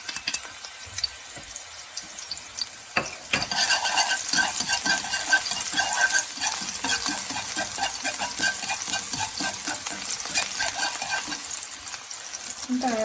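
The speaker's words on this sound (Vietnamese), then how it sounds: "Bây giờ mình sẽ cho hành này vào trong dầu, mình phi cho thơm nhé." Onions frying in hot oil for crab stick fried rice, starting with a few faint clinks and then breaking into a loud, steady, crackling sizzle that fills the rest of the clip, with no talking.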